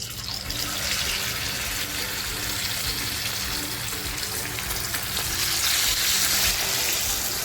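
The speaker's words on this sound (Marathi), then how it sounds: "थोडं थोडं चिकन मी फ्राय करते" Steady, loud sizzling of black pepper chicken pieces frying in very hot oil in a small kadai, a dense crackling hiss that continues without pause.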